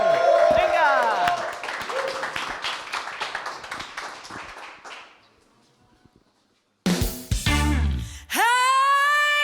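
Audience applause for a band on a TV show: loud clapping from a crowd that fades out over several seconds, followed by music starting up.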